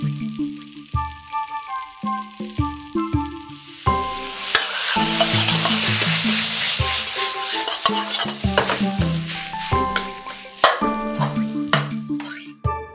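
Rice is stir-fried in a pan with soy sauce seasoned with oil, salt, chicken bouillon and Sichuan pepper oil, giving a continuous sizzle broken by repeated scraping stirs and light clinks.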